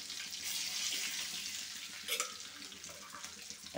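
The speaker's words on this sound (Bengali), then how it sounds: "মাছ ভাজা তেলের ভিতরে আমরা দিয়ে দিচ্ছি সাদা জিরা, দারচিনি এবং এলাচ।" Cumin, cinnamon and cardamom sizzling in oil left from frying fish, a close bright crackling hiss that swells early and then settles, with a light clink of a utensil.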